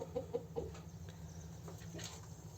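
Rooster giving a few soft clucks close by, short low calls early on over a steady faint background hum.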